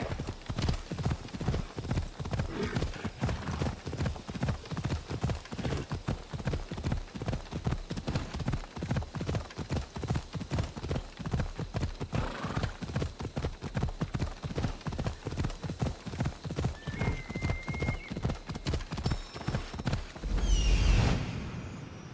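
Rapid, steady clip-clop of a horse's hooves at a brisk gallop in Assassin's Creed Odyssey, continuous and fairly close for about twenty seconds, with a brief whinny or snort near the end.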